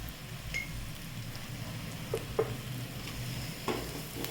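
Bitter gourd sautéed with homemade black masala in a pan gives a steady soft sizzle, broken by a few sharp clinks and scrapes of a spoon stirring against the metal.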